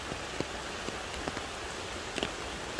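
Heavy rain pouring on a waterfall trail at Bunga Falls in Nagcarlan, Laguna, a dense constant hiss with scattered louder drops striking nearby surfaces such as umbrellas.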